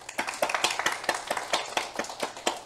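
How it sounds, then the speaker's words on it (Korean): An audience at a corporate meeting claps in a steady, fairly even rhythm, each sharp slap distinct, moderately quiet and without talk. "대단한 여러분들을 위해서 박수로 치는 것으로 해서 마치는 걸로 하겠습니다"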